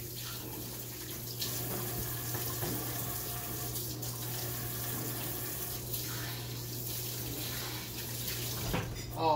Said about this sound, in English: So now I'm going to wash my hands.